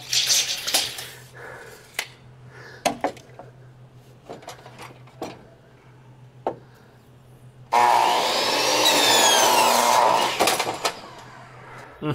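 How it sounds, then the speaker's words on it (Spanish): A blade saws through wet decking lumber during outdoor deck construction, a loud sustained cutting whine with rising harmonic sweeps lasting a few seconds after scattered knocks and handling sounds. "Esa madera húmeda necesita pasar por la cuchilla bastante rápido."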